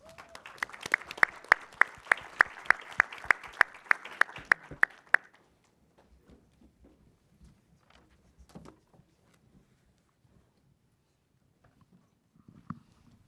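An audience at the SXSW EDU 2022 Launch Competition applauds to welcome presenters to the stage. The clapping is steady and fairly loud for about five seconds, then stops, leaving a quiet room with only faint scattered noises.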